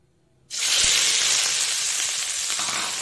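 Chopped onion dropped into hot oil, bursting into a loud sudden sizzle that holds steady as a bright continuous hiss close by, with no talk.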